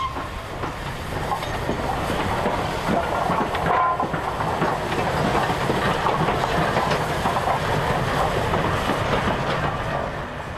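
Flying Scotsman, an LNER Class A steam locomotive in new-look livery, rolling past on Honiton Bank, with a steady rumble and clatter of wheels and carriages. It stays loud and continuous throughout, with no voices.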